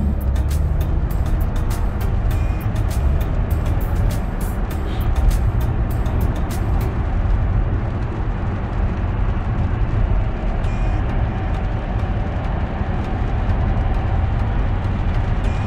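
Traffic on a Canadian highway makes a steady, loud, continuous roar of cars and trucks throughout, with almost no speech.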